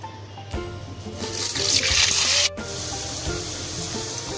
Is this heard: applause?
no